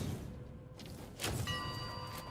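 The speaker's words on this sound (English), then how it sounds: "we can shoot the bell." In Where Winds Meet, a shot strikes a bell with a sharp impact, then a clear metallic ring sustains to the end of the clip, with no talk.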